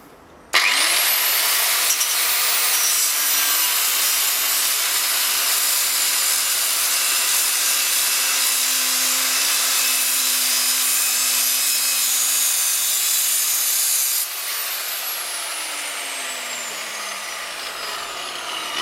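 A power tool cuts through the frame of a Honda CX 500 motorcycle being modified into a cafe racer. It makes a loud, steady, high-pitched grinding screech for about twelve seconds, then continues at a slightly lower level.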